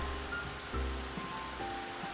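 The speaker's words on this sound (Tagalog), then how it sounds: "Nasa na ulan sa labas oh." Steady rain falling outside a house under construction, a soft continuous broadband hiss with faint drips, fairly quiet and unbroken, no voices.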